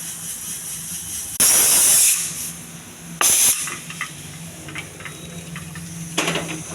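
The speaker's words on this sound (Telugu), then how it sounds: "చూడండి, ఒకే ఒక విజిల్ వస్తుంది." A pressure cooker on a stove releases steam in two loud, sharp hissing blasts separated by a pause, then a softer hiss near the end over a low steady background.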